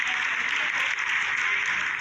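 An audience applauding during the ISRO Chandrayaan-3 landing livestream, a continuous dense wash of clapping held at an even level for the whole stretch.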